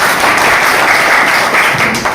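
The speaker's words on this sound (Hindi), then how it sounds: "चलिए एक बार जोरदार ताली होनी चाहिए सबके लिए।" Seminar audience applauding on request, a dense burst of many hands clapping loudly and continuously for about two seconds.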